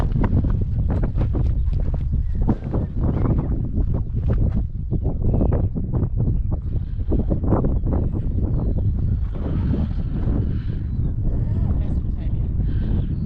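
Strong wind on New Zealand's South Island buffets the microphone in constant rumbling gusts, loud and close, with a voice talking underneath.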